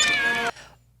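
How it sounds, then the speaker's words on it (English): A cartoon cat alarm from the animated film The Nightmare Before Christmas gives a single loud, drawn-out meow that cuts off sharply, leaving a faint low hum behind. "the cat alarm still makes me smile."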